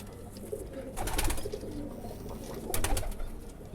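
Pigeons of the tube light breed coo in low, throaty murmurs close by, with a couple of brief rustling bursts like flapping wings.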